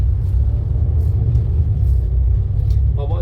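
Wright Gemini bus on Xplore Dundee route 10 between Broughty Ferry and Ninewells, with a steady low engine rumble heard from on board, continuous and fairly loud, and a brief higher sound near the end.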